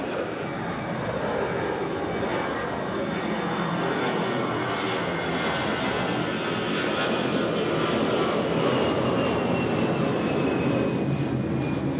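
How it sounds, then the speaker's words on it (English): An Edelweiss Airbus A320 jet departing on runway 28 at foggy Zurich Airport roars loudly and steadily, its engine whine gliding slowly downward as the noise builds slightly over time, with no voices. "Edelweiss A320 departing on 28"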